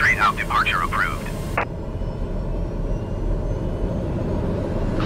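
Steady broadband drone of a TBM 930 turboprop engine at takeoff power in Microsoft Flight Simulator, continuous and loud, with a brief radio voice at the start before the engine roar continues alone.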